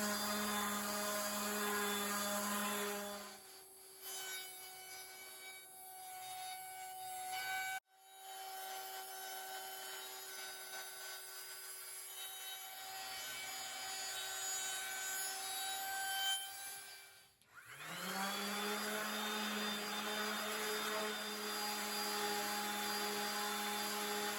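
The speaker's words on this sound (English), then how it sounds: "I need to sand it down just a bit more" A power sander whirs steadily against wood, a continuous buzzing rasp that pauses twice briefly and restarts, close and loud, no voices.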